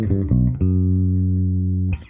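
Bass guitar phrase in E Dorian using wide stacked-fifth intervals: a few quick plucked notes, then one long sustained low note ringing loudly before stopping, with no talking.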